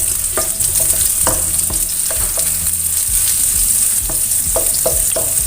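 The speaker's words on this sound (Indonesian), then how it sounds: "Tumis semua bumbu sampai harum ya" Spice paste for Hong Kong-style soy sauce chicken stir-fries in a pan with a constant bright sizzle, punctuated by repeated spatula scrapes and clacks nearby.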